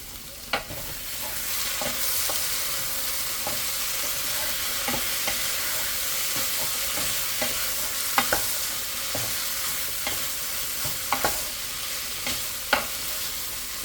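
Sausage meat cooking in a pot on a home kitchen stove gives a steady close sizzle and frying hiss, broken now and then by faint stirring scrapes and taps.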